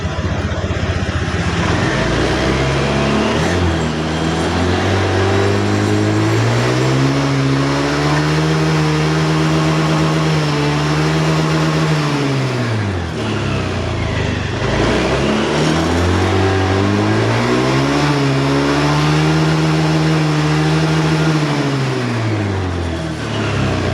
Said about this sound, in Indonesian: Langsung kita coba dinyalakan motornya.